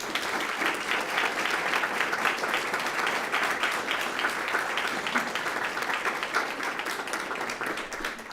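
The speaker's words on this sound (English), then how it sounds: "Let's give them a round of applause" A crowd at a school board meeting gives steady, sustained applause for student athletes, a continuous wash of many hands clapping at even loudness throughout.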